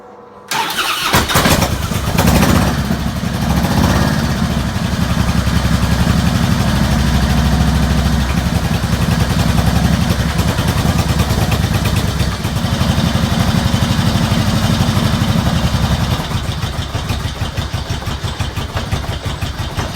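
A 1999 Harley-Davidson Road King V-twin fires up after a brief crank, then settles into a loud, steady, close-up lumpy idle that continues unbroken throughout.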